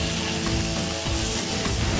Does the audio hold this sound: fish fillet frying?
yes